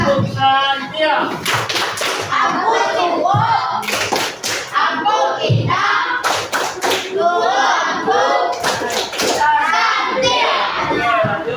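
Schoolchildren in a religious-education class chant the rhythmic tepuk santiang clapping game, sharp unison hand claps punctuating their loud sung-spoken words at close range.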